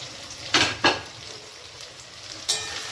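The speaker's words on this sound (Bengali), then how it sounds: "এবার আমি আলুটাকে দিয়ে দেবো, এর সাথে ভাজা করব।" Chopped raw potatoes fry in a hot pan, a steady soft sizzle broken by a few sharp scraping stirs from a spatula.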